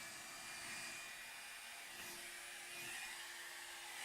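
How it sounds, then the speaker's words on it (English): Hair dryer running on low setting over a puddle of alcohol ink on plastic craft sheet, a steady close whooshing blow with a faint whine, continuous and alone. "I like to use a hair dryer."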